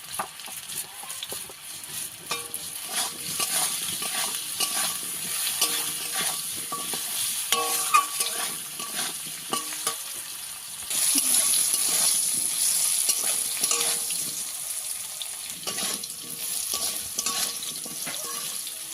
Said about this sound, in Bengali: ওল ভালো করে ভেজে নিয়েছি, একটু সেদ্ধ সেদ্ধ হয়ে গেছে